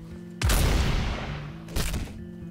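Two shotgun blasts from the No More Room in Hell video game, a loud booming shot followed by a second about a second later, each with a long decaying tail and no talk over them.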